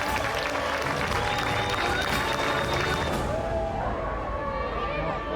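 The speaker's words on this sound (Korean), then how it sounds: "달이 품었던 태양을 조금씩 내놓자 관객들의 박수가 쏟아진다." Applause and cheering from a crowd of spectators at a solar eclipse viewing in Mexico, loud and continuous with excited voices and whistles mixed throughout.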